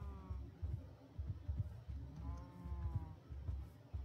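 Cows in a modded Minecraft game let out repeated low, drawn-out moos, several overlapping calls in a row, moderately loud against a quiet background.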